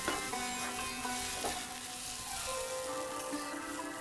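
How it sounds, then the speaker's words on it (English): Spices including turmeric powder fry and sizzle in a pan while being stirred to coat them for a spicy egg roast, a steady close hiss with a few soft utensil knocks. "I'm lowering the heat, just getting that spices all coated well."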